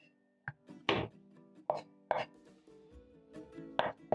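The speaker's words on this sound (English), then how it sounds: "Using my knife, I'm going to smash my garlic" Chef's knife smashes and roughly chops four garlic cloves on a cutting board, giving a handful of sharp, separate knocks spaced irregularly, close and fairly quiet.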